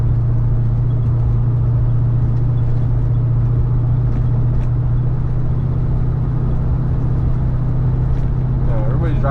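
A Chevrolet Chevelle cruises on a grocery run, its engine giving a steady, loud low drone with road noise that holds level throughout.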